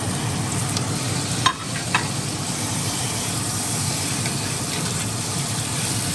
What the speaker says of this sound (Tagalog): Lutuin ko ngayon. Maluto yung bawang tsaka sibuyas. Lagay ko na rin yung kamatis.